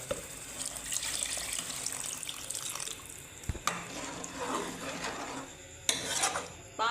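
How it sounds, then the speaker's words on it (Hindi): Water pours into a cooking pot of aloo anday shorba, a steady splashing stream with a few stirring clinks and knocks, close and fairly quiet. "अब हम इसके अंदर पानी ऐड करते हैं।"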